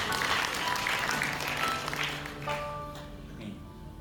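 Applause from a church congregation during a Sunday service, strong clapping at first that slowly thins and fades while a few sustained tones linger underneath.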